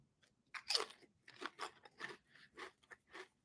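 Thick, well-coated potato chip bitten and chewed, a sharp loud first crunch followed by a steady run of about eight smaller crunching bites, close and with no talking.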